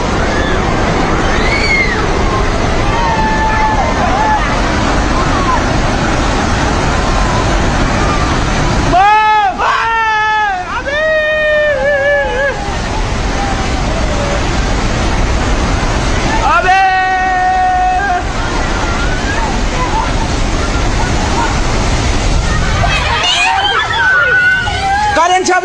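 Flash flood water in Nepal rushes with a steady, loud roar that fills the whole stretch, while voices and shouts rise over it at intervals.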